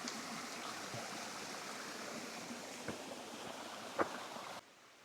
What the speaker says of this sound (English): There you go, a nice rocky waterfall